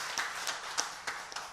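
Scattered hand claps from a church congregation applauding its workers at a Sunday service, a few separate bursts spread across a quiet, soft room.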